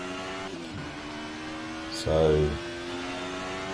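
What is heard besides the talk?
screaming V6 race car engine, Assetto Corsa video game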